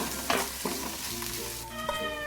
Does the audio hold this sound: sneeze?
no